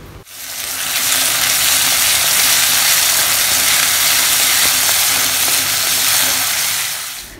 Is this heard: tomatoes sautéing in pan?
yes